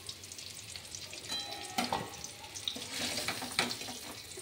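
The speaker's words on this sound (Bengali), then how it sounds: "প্রথমে আমি কড়াইতে তেল দিয়ে আমি আলুগুলো সব ভেজে" Potatoes frying in hot oil in a wok for a mutton dish, a steady sizzle and crackle with occasional louder bursts as the pieces are stirred, close up with no talking.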